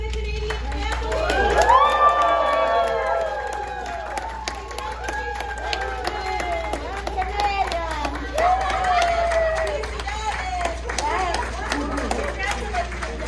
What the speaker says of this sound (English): We're all cheering and waving our flags as the official said that we're all now part of the Canadian family.